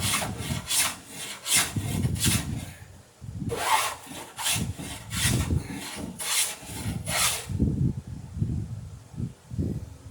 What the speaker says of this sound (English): We're always just trying to trim that bottom to the perfect angle.